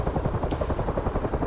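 A CH-53 heavy transport helicopter in a flight simulator churns out a steady, dense rotor thump with a rapid, even beat and a low engine roar, loud and continuous with no one talking.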